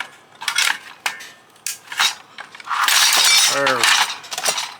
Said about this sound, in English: Screwdriver in here and see if we can pop this up.